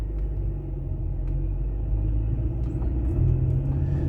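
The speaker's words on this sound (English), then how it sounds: "on the right hand side there's a lot of traffic" Road traffic passing by Calderdale College on Francis Street, a steady low rumble of cars and engines heard from inside a moving car, continuous and fairly loud with no voices.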